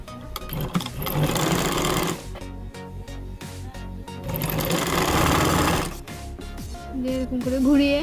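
Sewing machine stitching a neckline onto a maxi dress, running in two loud sustained bursts of rapid mechanical chatter separated by a short pause, close up, then starting again at the end.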